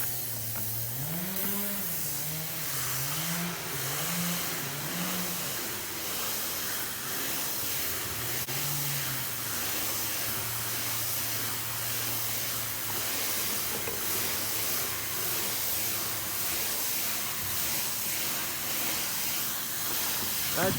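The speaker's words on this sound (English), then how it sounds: "They're spraying this spray foam insulation in our roof." Steady broadband hissing of spray foam insulation being sprayed into a log home roof fills the whole stretch, loud and continuous, with a low droning tone wavering underneath from nearby equipment.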